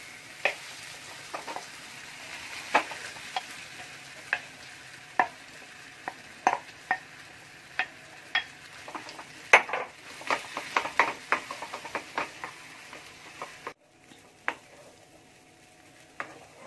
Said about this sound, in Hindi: अब देखिए, हमारा आलू का मसाला अच्छे से भून चुका है।